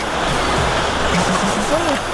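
A waterfall at Lansang National Park rushes in a steady, dense roar close by as people walk alongside it, with someone talking over the water.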